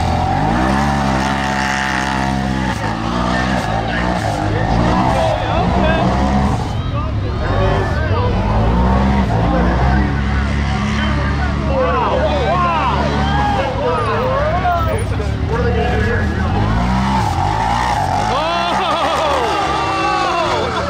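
Side-by-side UTVs race, among them a Yamaha YXZ, a Can-Am X3, a Turbo RZR and a two-stroke X3, their engines revving and rising in pitch continuously and loudly over about twenty seconds, with people talking over the engine noise.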